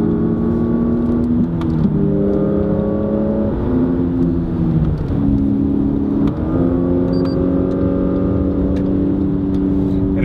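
A Lexus NX 300h hybrid in F Sport mode, stationary, revs its engine with stepped, rising and falling tones that mimic simulated gear shifts, heard loud and close with no voices.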